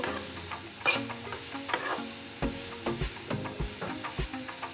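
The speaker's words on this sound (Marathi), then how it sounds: "एकसारखं मिक्स करत राहायचंय" Grated carrots roast in ghee for gajar halwa while a spoon stirs them in the pan, soft sizzling under repeated close scraping strokes in an uneven rhythm, with no voices.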